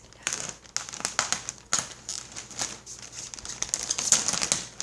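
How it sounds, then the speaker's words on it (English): Crinkly cellophane wrapping on a new trauma supply bag crackles and rustles in close, irregular bursts, handled continuously for several seconds with no talking. "crinkly cellophane wrapping"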